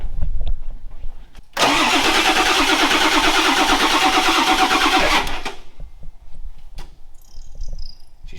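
A 1977 Ford truck engine cranks and catches, then runs loud and rough for about four seconds before dropping away, leaving faint clicks and quiet shop noise.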